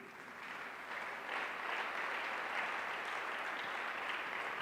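A church congregation applauds with a steady, dense wash of clapping that swells slightly and holds for several seconds. No talking is heard over it.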